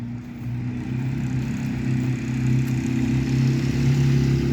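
A Lada Zhiguli climbing an icy, snowy hill with its engine revving, a loud, steady, strained drone that swells slightly as it pulls away, with no voices.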